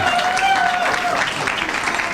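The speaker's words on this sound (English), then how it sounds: "Big round of applause for Tanisha, ladies and gentlemen." Applause rises from the audience at the Miss Malaysia World 2013 pageant Q&A session, a dense, close wash of clapping over the whole moment, with a faint tone lingering briefly at the start.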